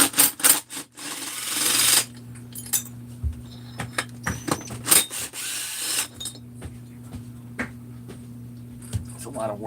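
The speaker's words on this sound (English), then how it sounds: "So let's see if we can sandpaper the dome on this." Sandpaper is rubbed by hand against the dome of a 372XP chainsaw cylinder head, making bursts of harsh scratchy rasping between pauses, close and fairly loud over a steady low hum.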